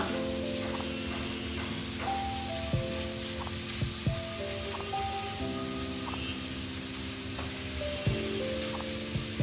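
Fried rice frying in a pan with jaggery powder being added, a steady close sizzle running throughout with occasional scraping stirs and background music tones.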